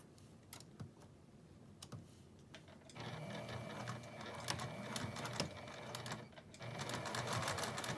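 Sewing machine top stitching a zip case, a quiet close run of rapid mechanical stitching in two bursts with short pauses and a few clicks between, no talk.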